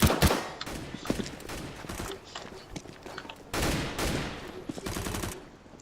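Gunfire in the video game Counter-Strike: Global Offensive during a competitive match: repeated sharp shots and bursts over about six seconds, loud and close, with faint footsteps between volleys.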